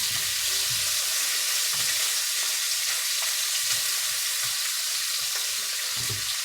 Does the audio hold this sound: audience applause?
no